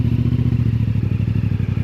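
A motorcycle rumbles loudly and steadily at close range with a rapid, throbbing engine pulse while riding along a muddy dirt track, with no talking.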